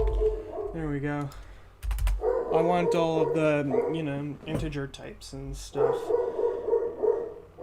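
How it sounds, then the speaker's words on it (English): A dog barks intermittently in the background of a room while someone talks close up over keyboard typing. "that's my dog barking in the background."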